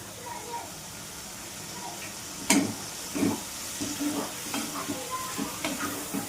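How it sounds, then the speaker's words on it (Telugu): Chopped onions, coriander and a little oil sizzle in a pan for chicken liver gravy, a soft frying hiss broken by several sharp scraping stirs, with a voice talking over it. "ఇక్కడ మనం కట్ చేసుకున్న ఆనియన్స్ని యాడ్ చేస్తున్నాను, ఇంకా కొత్తిమీరని కూడా, ఇంకా కొద్దిగా ఆయిల్"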